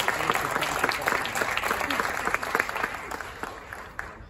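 Sustained audience applause at a Televisa Univisión season presentation, many hands clapping steadily and fairly loud, with crowd murmur mixed in and tapering slightly at the end.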